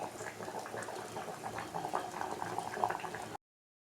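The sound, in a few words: sambar boiling in a pot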